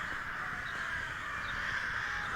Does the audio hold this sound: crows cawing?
yes